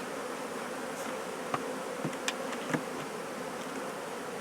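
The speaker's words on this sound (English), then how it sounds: "The bees will fly back, some of them" Honeybees buzz steadily around a hive, a dense, even drone with a few individual bees passing close by as brief louder hums.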